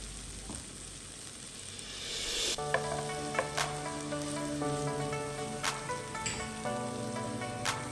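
Onions mixed with spices and garlic sizzle softly in a pan, a faint steady frying hiss with occasional sharper crackles and light scraping, heard close and alone.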